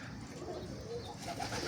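Aviary-kept breeding pigeons coo softly in a low, repeated rumble, quiet and close, with faint bird-house ambience around them.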